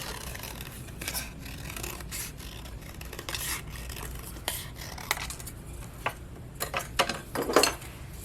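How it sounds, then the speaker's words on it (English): Scissors snipping paper into a circle for a teacher appreciation gift, a series of close, soft crisp cuts and rustles with brief pauses, growing slightly louder toward the end, no voices. "let's go ahead and just cut this into a circle"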